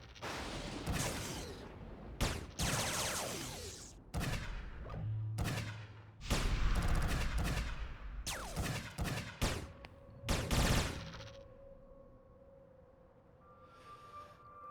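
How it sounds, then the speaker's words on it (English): Rapid bursts of pistol fire from the online game Anarchy Online, a string of loud broadband shots in quick clusters with game effects and tones between them, fading to a quieter ambient hum at the end. "these pistols seem so quiet on the dock compared to all my other characters that use range"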